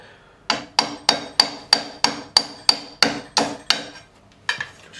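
A steady run of about a dozen sharp hammer blows drives a punch against the glued-in nut of an Ibanez RG200 electric guitar neck, evenly spaced and close, with no talk.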